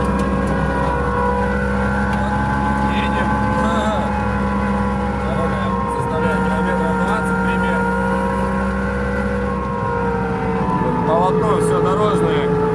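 Car driving on a snow-covered road on studded tires in fifth gear during a rally in Yakutsk, Russia: steady engine drone with road rumble throughout, under someone talking in Russian.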